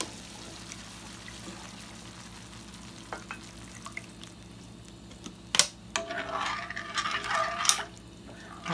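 Water is poured into thick Salisbury steak gravy in a hot pan, setting off a loud, crackling sizzle and bubbling hiss that follows a few faint clinks and a low, steady background hum.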